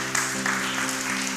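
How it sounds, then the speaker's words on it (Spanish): A congregation at a Sabbath Torah-portion service claps in praise, a brief, dense, continuous wash of applause heard close with a low hum and some voices underneath. "Dale un aplauso al Eterno."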